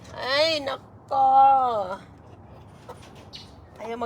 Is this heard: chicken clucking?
yes